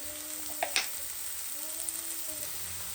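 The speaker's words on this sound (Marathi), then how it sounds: "मिठामध्ये थोडा वेळ परतून घेऊ सोयाबीन" Soybeans fry in a pan with cumin, onion and salt, giving a soft steady sizzle throughout, with a couple of brief stirring clicks and scrapes near the start.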